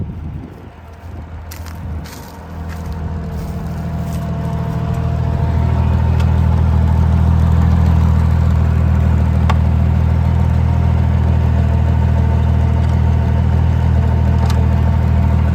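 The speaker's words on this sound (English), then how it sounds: "So I'm gonna get on the tractor now, take you down the road a little bit, let you watch the disc work" An Oliver tractor pulling a disc in 4th gear runs close by. Its engine rises from a low idle over the first few seconds into a loud, steady mid-pitched drone that holds to the end.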